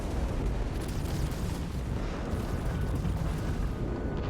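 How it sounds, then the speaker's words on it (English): Rumbling, booming explosions from a modded video game with an explosion overhaul, a dense continuous roar of blasts at steady, moderate loudness with no talking over it. "Explosions look better."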